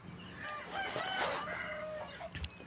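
Layer hens cluck in a bamboo cage while a rooster crows once. The sounds are faint and fairly close, set against low background noise.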